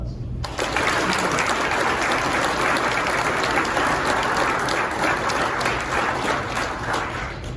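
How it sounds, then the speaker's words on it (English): An audience applauds at a county sheriff's department promotion and awards ceremony, with dense, steady clapping filling the hall for several seconds after a brief quiet start. "Round of applause."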